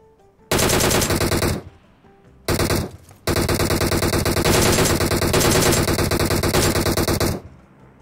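Automatic weapon fire in the battle royale game PUBG, loud rapid bursts with a short break, then a long sustained burst that cuts off abruptly.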